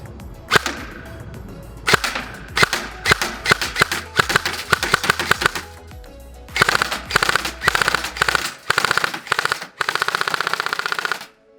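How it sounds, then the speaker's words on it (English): An ARP9 airsoft gun shooting BBs outdoors, with loud, sharp cracks fired singly and in quick bursts, followed by rapid full-auto strings near the end. "So this is the ARP9 right here. Let's go shoot."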